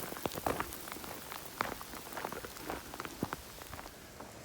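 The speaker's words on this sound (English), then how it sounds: "Well, here comes the rain again." Light rain patters on a forest canopy, scattered drops ticking on leaves in a soft, steady, irregular rhythm, fairly faint with no talking.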